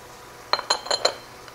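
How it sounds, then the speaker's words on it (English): Spoon clinking against a bowl while stirring beef empanada filling with minced garlic, four quick metallic taps in a row, close and fairly quiet, with no talking. "Let's stir that up."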